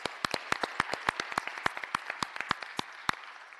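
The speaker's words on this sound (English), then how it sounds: "So a round of applause to our past award winners." A small crowd at a business and professional women's meeting applauds past award winners, a brisk burst of sharp, distinct claps that thins out and stops after a few seconds.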